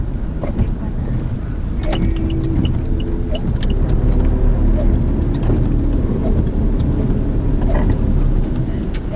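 A motorcycle tricycle with faulty wheel alignment rolls along a street in Batangas, a continuous low engine rumble with rattling clatter, loud and steady throughout.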